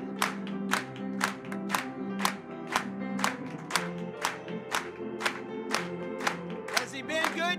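A church congregation claps in a steady, even rhythm, roughly two claps per second, with crowd voices and singing sustained underneath at moderate loudness.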